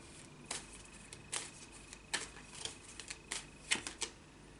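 A run of crisp riffling bursts, about a dozen quick flurries, close and quiet, with brief gaps between them and no voices.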